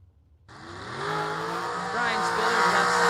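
A drag race car at the track revs up and accelerates hard, its engine note climbing and growing louder over a few seconds beneath an announcer's voice.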